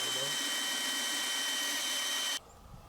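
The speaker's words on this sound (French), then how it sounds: "avec une mèche de 2 pouces de même, je vais percer" A power drill with a 2-inch bit bores through cedar wood for a headboard, a loud steady high whine running nearly three seconds before cutting off abruptly, followed by faint quiet.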